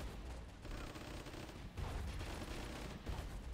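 Tank-versus-tank battle in the Warfare 1944 flash game, with a steady rattle of gunfire and thuds at a fairly low, distant level.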